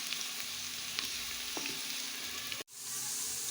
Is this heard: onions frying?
yes